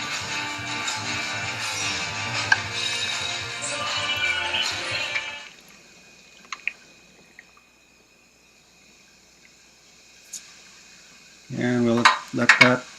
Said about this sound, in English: Give that a quick stir to get it going.